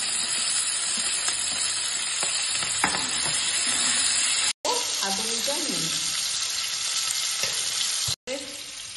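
Carrots, beans, capsicum and potato fry loudly in a pan for a paneer navratan curry, a dense continuous sizzle with occasional stirring scrapes, two short gaps, and a brief spoken line over it.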